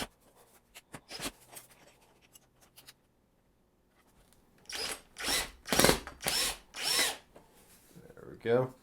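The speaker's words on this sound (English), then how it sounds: "I'm not screwing it in all the way until I get the other drilled, or at least started." Power drill used on Acoustimac acoustic panel mounting in a recording studio: a few short taps and clicks, a quiet pause, then several loud whirring drill bursts in quick succession close by.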